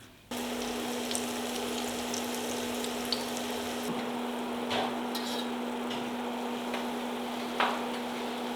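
Bahraini kabab batter frying in hot oil, a steady broadband sizzle with a constant hum running underneath and a few soft clinks, close and alone without speech.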